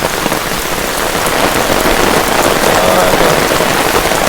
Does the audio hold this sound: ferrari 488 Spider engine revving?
no